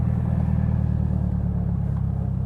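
A 2015 BMW 228i fitted with a UniClutch driving along, its engine giving a steady low rumble and drone from inside the cabin, even and continuous without revving peaks.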